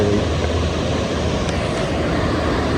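Snowmelt waterfall running below a mountain viewpoint near Manali, a loud, constant roar of rushing water mixed with wind buffeting the microphone, no speech.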